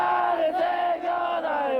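A group of UDT/SEAL special forces trainees lets out a sustained, loud massed battle cry, voices rising together in a long, echoing roar before the start of IBS rubber boat training.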